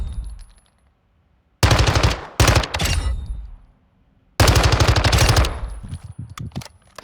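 Submachine gun fire in Modern Warfare 2 (2022): two long bursts of rapid automatic shots separated by a short pause, loud and close, with no talking.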